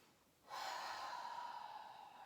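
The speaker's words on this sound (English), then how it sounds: "So take a big deep breath in through the nose," A person takes a deep breath out through the mouth, one long, airy exhale. It starts abruptly after a brief quiet moment and carries on close and steady, with no speech over it.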